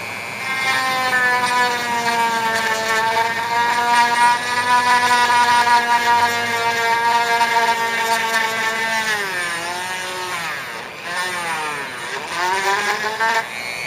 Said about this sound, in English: I think I will do it with my Dremel.